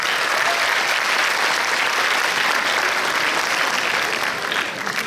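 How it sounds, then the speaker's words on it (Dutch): Audience applause at the Miss Fashion 2020 pageant greeting a male jury member, a dense, steady wash of many hands clapping at close range that holds for the whole stretch and eases slightly at the end. "Een applaus, dames en heren, voor de knappe man daar"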